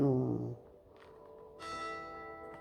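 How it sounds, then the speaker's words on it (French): Church bells toll at noon with resonant, ringing strokes, one tone decaying before another strike sounds out clearly, moderately loud against a quiet background with no voices. "il va y avoir les cloches de l'église. Bon, bah, juste quand je parle du divin, on va laisser passer les 12 coups"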